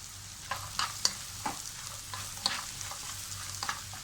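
Garlic and black pepper sizzle in a pan with golden fried bread for Egyptian fatta, a soft, steady frying hiss broken by light stirring scrapes and small pops.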